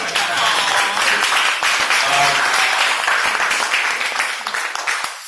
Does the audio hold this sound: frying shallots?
no